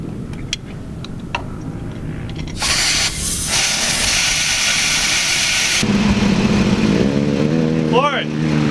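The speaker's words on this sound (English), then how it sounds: "So I'm gonna let a little air out of my tires" Air hisses out of a vehicle tire being deflated before a muddy off-road traction test: a loud, steady, close rush lasting about three seconds, then a rumbling engine with a rising whine.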